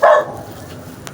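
A single short, loud dog bark close by, followed by quiet background noise, on a rainy afternoon in Quezon Province.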